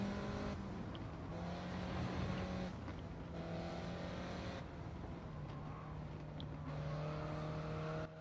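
A small car's engine drones steadily in Gran Turismo 7, its hum holding and shifting pitch across gear changes with no pauses, at a moderate level and with no voices over it.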